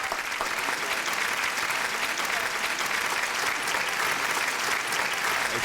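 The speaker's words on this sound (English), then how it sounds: "Give me a hand clap or something. Make it hot." A studio audience claps in a dense, loud, unbroken wash of applause that holds at the same level from start to finish.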